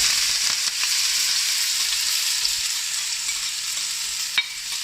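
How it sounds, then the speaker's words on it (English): Onion and curry leaves fry in hot oil with cinnamon stick and star anise for a South Indian chicken gravy, giving a steady, close sizzle that holds evenly throughout with no talking. "Now the onion and the curry leaves just getting fried in the spices."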